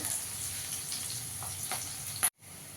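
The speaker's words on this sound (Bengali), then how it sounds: "একটু লাল লাল করে ভেজে নেব পেঁয়াজটাকে" Onions sizzling in a pan during prawn and jackfruit curry preparation, a faint steady crackle with a few stirring clicks that ends in an abrupt cutoff.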